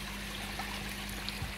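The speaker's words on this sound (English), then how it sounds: "just so the water's coming out and giving me a bit more flow around the pond" Water pours steadily from a short pipe fitted with a cut-down rubber elbow into a backyard koi pond, making a continuous, fairly soft trickling splash with no voices.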